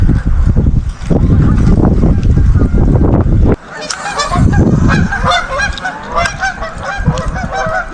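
Geese honking on a pond at the end of a street, a dense flock calling over one another, loud and close, with a low rumbling wash in the first half before the honks ring out clearer and brighter.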